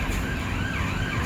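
Emergency vehicle sirens wailing from the streets of Piccadilly in London, heard across a green park as a steady, moderately distant rising-and-falling tone over traffic hum, with no talking.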